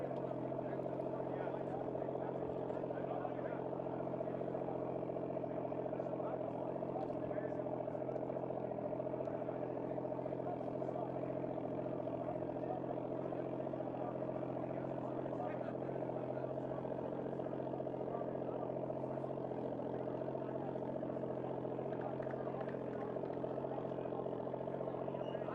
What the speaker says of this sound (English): you can hear these guys firing the engines as we get ready for the Parade of Nations.